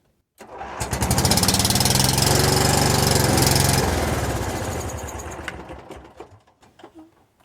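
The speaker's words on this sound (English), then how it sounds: "that clacking noise was terrible" A Cub Cadet 1641 lawn tractor engine cranking as someone tries to start it, a loud rapid mechanical clacking that runs steadily for several seconds and then sputters and fades in uneven bursts.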